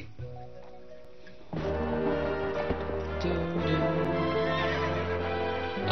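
A horse neighs loudly and then its hooves clip-clop in a steady rhythm in the video game The Legend of Zelda: Twilight Princess, with game sounds continuing underneath.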